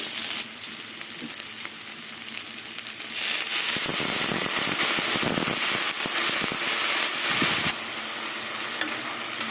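Tomatoes and small fish frying in a pan with a splash of water for a spicy Bengali fish curry, a steady sizzle that swells into a loud crackling spatter midway, then settles back, heard close without talk.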